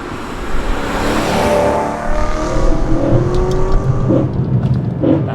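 A BMW E92 M3 engine revs on a downshift, a loud, close, rising and falling snarl that fills several seconds with a whirring edge.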